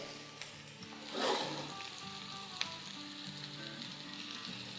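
Oil drizzled over Tunde kebabs sizzling in a pan gives a steady, close frying hiss, swelling briefly into a louder crackle and with one sharp tick partway through, with no voices.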